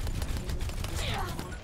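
Overwatch gunfire: a steady run of rapid, fairly loud shots layered over dense in-game action and effects, with no pause across the short stretch.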